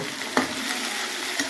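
Meat sizzles steadily in a hot wok as it browns and starts sticking, a constant frying hiss with two brief scraping clicks of a spatula.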